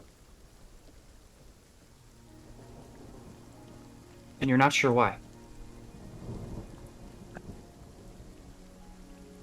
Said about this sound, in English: you hear the crack of thunder